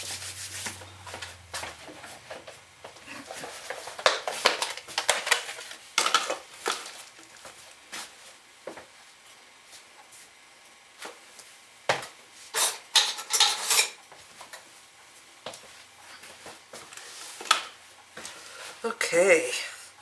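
A knife spreads butter over fresh layered biscuits, with intermittent scraping and rubbing strokes against a plate, close by, while a person talks over the work.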